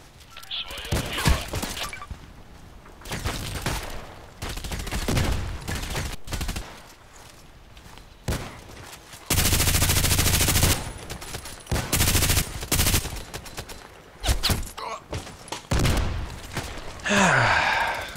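Bursts of automatic gunfire from the online shooter Contract Wars, on a French server, rattling in repeated volleys with brief pauses, the loudest stretch sustained for over a second, mixed with other game sounds.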